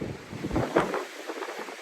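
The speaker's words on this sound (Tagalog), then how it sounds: "Kaya no, sobrang hangin." Strong storm wind buffets the microphone in a steady, loud rush with gusty surges, heard alone.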